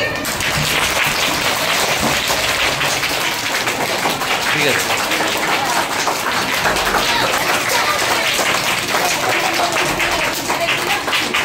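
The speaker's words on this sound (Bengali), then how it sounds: "সবাই হাততালি।" Continuous crowd clapping at a school day event at St Joseph School in Dinajpur, steady and full throughout, with a voice speaking briefly over it.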